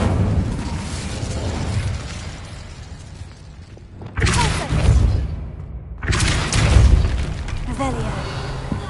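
Fire spell blasts go off in Hogwarts Legacy: a rumbling, crackling roar at the start, then two loud booming bursts of flame with bright crackle, each lasting a second or two and separated by a brief lull.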